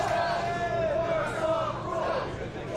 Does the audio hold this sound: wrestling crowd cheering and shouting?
yes